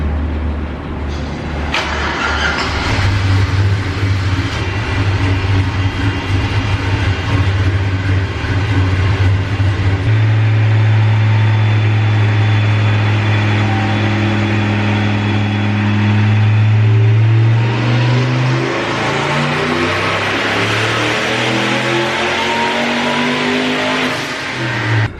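Turbocharged LS V8 swapped into an Oldsmobile F85 holds a loud, steady drone on a chassis dyno, then climbs hard in pitch as it revs out near the end through its exhaust, with no talking.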